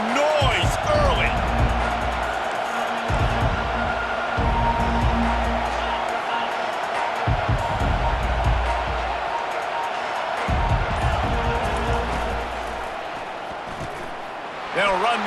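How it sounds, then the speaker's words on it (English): A stadium crowd in EA Sports College Football 25 keeps up a continuous, loud roar, broken by deep rhythmic thumps, with a voice talking over the noise. "This crowd bringing the energy and noise early."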